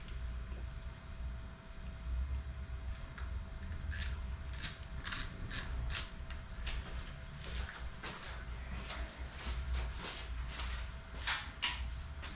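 Ratchet spinning bolts onto a Harley Davidson Low Rider S motorcycle, a run of quick, close metallic clicking bursts in the middle stretch over a quiet garage background, with no talk.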